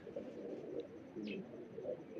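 A Rampuri pigeon coos softly, a low, throaty murmur close by, with faint background noise and no talking.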